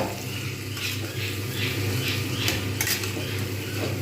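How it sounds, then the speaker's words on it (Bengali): Jackfruit, potato, tomato and spices are stir-fried in a pan for a vegetarian Bengali curry, a steady low sizzle under repeated scraping and clinking of a metal spatula against the pan, close and continuous, with no talking. "এরকমভাবে কিন্তু বেশ কিছুক্ষণ কষবো, এতে ইঁচড় আলু টমেটো মশলা সব কষাও হয়ে যাবে"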